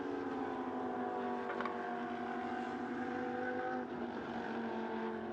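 Lamborghini Super Trofeo race cars lapping at Sepang, a steady loud layered engine drone with sustained tonal whine and no break.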